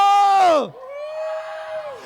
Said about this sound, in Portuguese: Quem gosta de matemática, dá um grito!